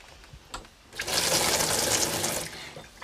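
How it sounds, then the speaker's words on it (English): Tap running on a television drama set kitchen, a brief click then a steady rush of water for about a second and a half before cutting off. "They've even got hot and cold running water."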